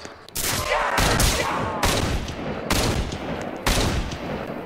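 Kar98k bolt-action rifle shots in a Call of Duty zombies game, five sharp loud cracks spaced roughly a second apart, each followed by a ringing tail over a busy game background.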